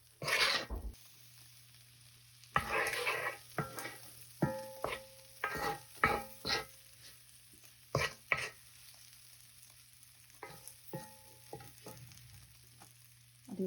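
Already-cooked shrimp tossed with spices in a pan make a soft sizzle under intermittent scraping and clattering stir strokes, close by, with quiet gaps between bursts.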